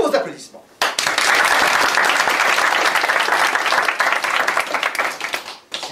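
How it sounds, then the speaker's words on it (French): A studio audience applauds during a French comedy sketch. After a brief lead-in, dense, loud clapping bursts in and holds for several seconds before thinning out at the close. "On accueille Sylvie sous vos applaudissements."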